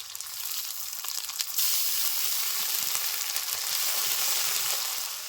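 Ginger garlic paste frying with onions in a pan for a fish curry, a loud bright sizzle that swells as the paste hits the hot oil, with faint stirring scrapes underneath.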